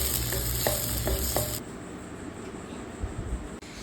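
Onion and green chilli dropped into hot oil in a pan, a loud bright sizzle with a few clinks at first that drops to a softer steady frying hiss, close by.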